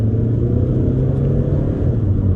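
Steady engine rumble from a Volvo C30 with a 6-speed Powershift gearbox while driving, a continuous low drone with no clear break for the gear change.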